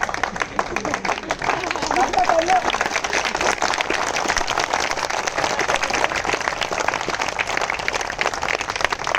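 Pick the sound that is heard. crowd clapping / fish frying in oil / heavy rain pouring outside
crowd clapping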